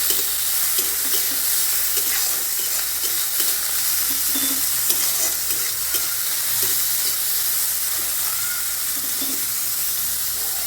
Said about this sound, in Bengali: এবার গাজরটা আমি খুব ভালোভাবে ফ্রাই করে নেব।